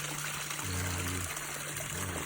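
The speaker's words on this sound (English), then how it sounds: "This water flows down to the pond." Garden water trickling steadily down toward a pond, a soft continuous flow with a low hum underneath, heard at a distance and fairly faint.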